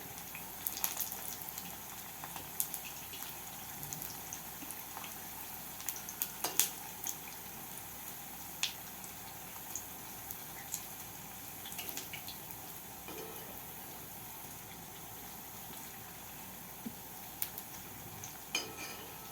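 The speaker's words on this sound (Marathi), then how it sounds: "छान दोन्ही बाजूनी व्यवस्थित तळून घ्यायचे" Potato smileys deep frying in hot oil, a steady faint sizzle with a few small clicks and taps scattered through, no voices.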